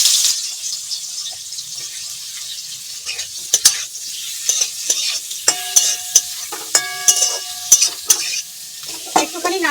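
Cut chichinga (snake gourd) with salt and turmeric sizzles steadily in hot oil in a home kitchen pan, with bursts of stirring and the scrape and clink of a spatula against the metal.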